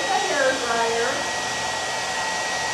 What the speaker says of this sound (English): take a hairdryer